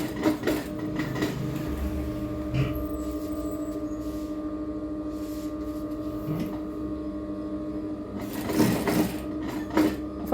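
Sewing machine running steadily while stitching a seam on lace-trimmed pajama fabric, a close continuous mechanical whir with brief pauses and small handling knocks.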